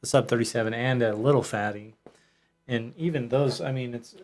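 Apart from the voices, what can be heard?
No everyday noises stand out.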